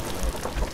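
In the pirate game Sea of Thieves, a storm brings steady rain pattering with low thudding rumbles of thunder underneath, a brief dense wash of weather sound with no speech.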